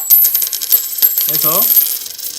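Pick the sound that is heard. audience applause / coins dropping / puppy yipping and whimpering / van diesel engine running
coins dropping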